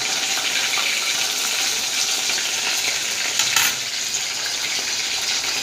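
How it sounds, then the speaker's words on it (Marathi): Bombil, Bombay duck fish dipped in batter, crisping in a frying pan: a dense, continuous close sizzle with a brief louder crackle burst midway, no voices. "आता हे बोंबील फ्राय होत आले आहेत बघा."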